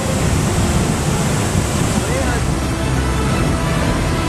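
The Son river, swollen and overflowing after heavy rain, rushes past in a continuous loud, broadband roar of churning water with wind buffeting the microphone.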